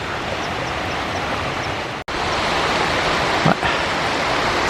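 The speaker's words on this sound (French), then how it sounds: "Ah ouais, il y a la cascade." Mountain waterfall beside a high-altitude Pyrenees hiking trail near Port Bielsa, a steady broadband rushing roar filling the clip, briefly cut at one moment, with a faint thump later and no voices.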